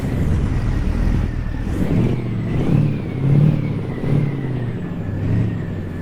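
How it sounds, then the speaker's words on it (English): A heavy truck hauling 34,000 pounds in American Truck Simulator rumbles with a steady low engine drone that swells and eases in gentle rev surges, continuous and close, with no voices. "just listening to the engine"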